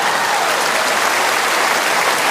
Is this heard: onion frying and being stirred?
no